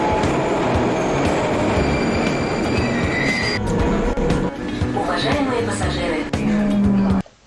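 A train in a Moscow metro station roars loudly with heavy rumbling and high wheel squeals as it moves through, with people talking over it.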